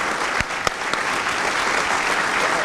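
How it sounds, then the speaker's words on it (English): Sustained applause from a conference audience at a Linux Australia event closing, steady dense clapping with a few sharper near claps early on. "we'll keep this round of applause going"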